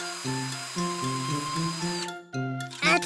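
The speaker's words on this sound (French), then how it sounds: "On va percer un trou proche du bord de chaque disque." Power drill boring a hole near the edge of a cardboard disc resting on a thick wooden board, a whining motor with stepped pitch changes, heard close and alone before stopping abruptly.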